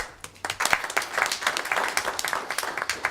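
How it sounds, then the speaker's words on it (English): Applause at a transit board meeting for union president Glenn Sawyer: a small group claps with distinct, close hand strikes that build quickly and continue briskly throughout. "So we have a little applaud for Glenn Sawyers for all the hard work he does."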